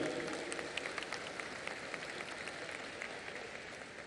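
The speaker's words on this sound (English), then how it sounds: "Yes, we'll keep the claps going, ladies and gentlemen." A film festival closing ceremony audience keeps up a steady wash of applause, many hands clapping at a moderate distance, continuous and even with scattered sharper claps.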